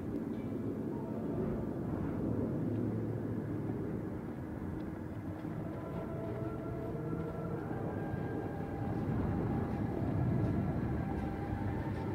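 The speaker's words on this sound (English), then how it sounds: "All right, the train's leaving." A continuous low rumble and rolling clatter of a train pulling away from a station in the video game Cyberpunk, steady throughout and swelling slightly toward the end, with no voices.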